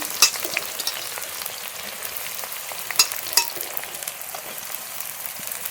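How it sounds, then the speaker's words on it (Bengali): Chopped onion fries in hot oil with bay leaf and whole garam masala, giving a steady, dense sizzle with scattered crackling pops and no talking. "পেঁয়াজটা একটু ভাজা ভাজা করে নেবো"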